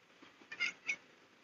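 A house cat meows twice in quick succession, faint and somewhat distant, over a quiet room with no talking.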